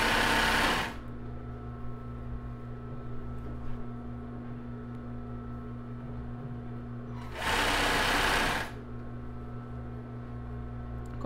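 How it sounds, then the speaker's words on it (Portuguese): A sewing machine stitches a zigzag seam on a plus-size bra with raw elastic, two short loud whirring bursts at the start and later, with a quiet hum between them. "usar o mesmo zigue-zague aqui em cima da costura. ajustar e costurar."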